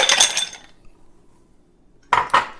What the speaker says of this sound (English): Now that I have ice, I'm going to add that to the mixing glass